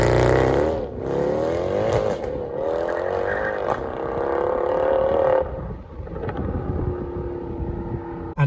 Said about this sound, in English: Also, a little sneaky launch control going to be added in.